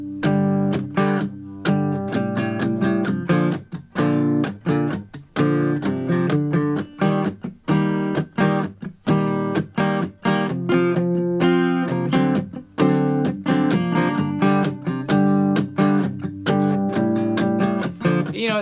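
An acoustic guitar plays a song, loud and close, with rhythmic strummed chords and rapid strokes running continuously for almost twenty seconds, without any voice.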